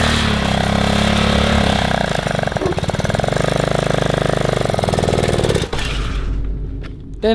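A motorcycle engine runs loudly and roughly with a rattling, pulsing drone, revving unevenly before dropping off toward the end.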